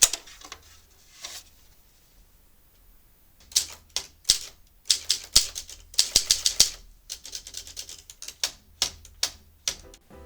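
A Tippa typewriter, just reassembled after repair, is typed on for a test: a few scattered key strikes, a pause, then quick, loud, close-up clacking that runs on in uneven bursts.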